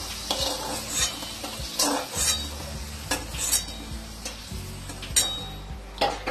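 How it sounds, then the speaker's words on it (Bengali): Potatoes fried red in hot oil, lifted from the pan with a spatula or slotted spoon, giving repeated scraping stirs and metal clinks over a continuous sizzle, in irregular bursts close to the listener. "আলুটা আমি এবার নামিয়ে নেব।"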